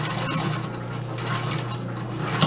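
A straight stitch sewing machine back-stitches over a zipper, giving a steady mechanical whir with faint ratcheting clicks throughout and a small knock near the end.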